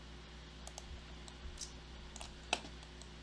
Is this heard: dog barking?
no